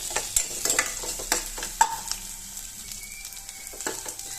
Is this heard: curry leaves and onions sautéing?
yes